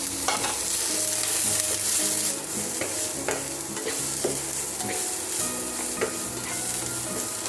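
Minced garlic and onion frying in a pan for ginisang giniling, a steady crackling sizzle with scattered sharp pops and clattering stirs against the pan, close and fairly quiet throughout.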